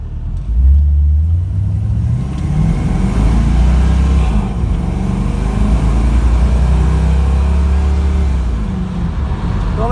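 A 1968 Camaro with an LS swap, an L59 engine running on E85, drives on a freeway. Its engine drone stays loud and steady inside the cabin, with the pitch dropping and shifting as it changes gears.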